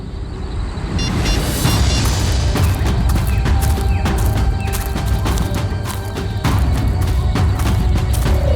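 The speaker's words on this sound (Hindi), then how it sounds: "ये पटाखों की आवाज नहीं, कोई गोली बरसा रहा है।" Gunfire rings out in a quiet abandoned place in a Hindi crime drama, a rapid, loud burst of sharp cracks and booms that repeats close by over several seconds, with no one talking.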